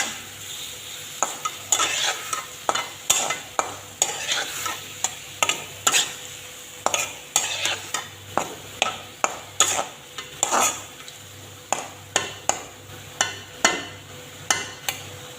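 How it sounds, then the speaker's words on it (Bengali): Food stirred in a frying pan with whole spices, a spoon scraping in repeated sharp strokes over a steady background sizzle, close and fairly loud with no talk. "সব ভালো করে নেড়ে চেড়ে দিচ্ছি।"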